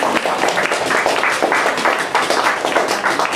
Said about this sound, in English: let's give our artists a warm round of applause